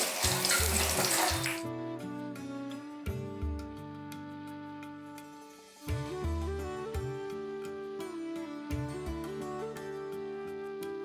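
Hot tempering poured into a pot of curry gives a loud, close sizzling burst that lasts about a second and a half and then cuts off, with background music playing throughout.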